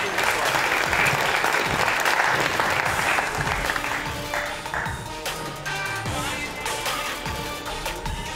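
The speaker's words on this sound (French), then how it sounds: "Vous pouvez les applaudir." Sustained audience applause at a college science competition, dense clapping from a large crowd that fades slightly, with a French-speaking voice over it toward the end.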